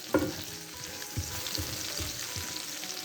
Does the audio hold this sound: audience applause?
no